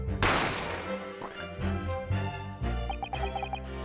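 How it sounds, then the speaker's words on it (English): Gunfire in The Great Ace Attorney Adventures video game, a burst of loud sharp shots with ringing echoes, followed by musical game tones and further clattering impacts. "You heard gunshots, you mean?"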